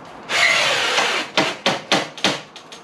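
A power driver sinks a 100mm screw into a timber joist during a loft conversion, one long whirring drive followed by several short bursts as the screw is seated, close and loud with no talk.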